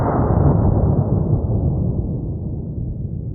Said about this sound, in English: the first round we're going to start out with is .22 long rifle, and I will be using a Smith & Wesson Victory